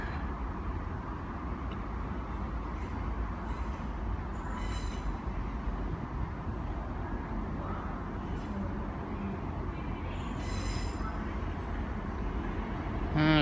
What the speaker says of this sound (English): Got another Southwestern Railway train coming in. It's formed of two coaches.